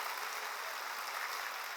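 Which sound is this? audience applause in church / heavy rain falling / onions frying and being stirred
audience applause in church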